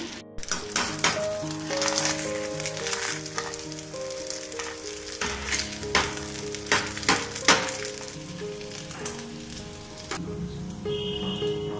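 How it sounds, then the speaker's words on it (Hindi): Bread rolls deep-frying in hot oil give a steady, close sizzling bubble throughout, with sharper crackles and pops breaking through now and then; a faint clink and a few tones from elsewhere sit in the background. "ये सभी अच्छे तरीके से फ्राई हो गए हैं।"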